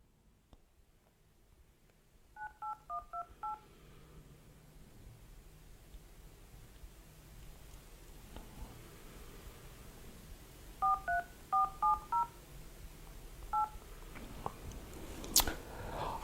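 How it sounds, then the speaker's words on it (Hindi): Telephone keypad dialing tones: a quick run of about six beeps, a pause, then another burst of roughly eight beeps and a single late tone, clear over a quiet background hiss. "अब हम फोन मिलाते हैं।"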